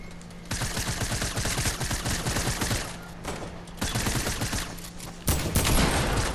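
Shotgun and other weapon fire in Fortnite, a steady loud barrage of repeated shots with short pauses between bursts and a sharper blast near the end, with no talk over it.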